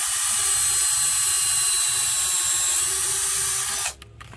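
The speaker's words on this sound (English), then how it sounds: "We're going to pre-drill on the bottom, and I like to try to angle it a little bit." A power drill pre-drills a pilot hole at an angle into wood for a homemade kayak rack, giving a steady, close, high-pitched whir for about four seconds before stopping abruptly.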